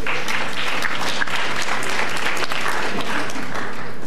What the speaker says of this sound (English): so let me shut down the clapping, perhaps.